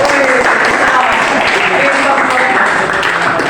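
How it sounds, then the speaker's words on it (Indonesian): Classroom applause from a group of students, steady clapping throughout with voices chattering over it, close and fairly loud. "Iya, tepuk tangan dulu, teman-teman."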